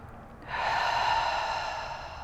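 A single slow, drawn-out exhale during a held Pilates stretch, a soft airy breath that swells and then fades gently, close and alone.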